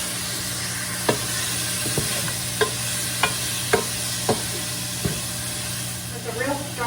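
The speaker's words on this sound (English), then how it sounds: "Oh, look, my garlic's burning" Garlic frying and starting to burn in a hot pan gives a steady broadband sizzle, punctuated by sharp clicks and pops roughly every half second, with soft scraping toward the end; nobody speaks.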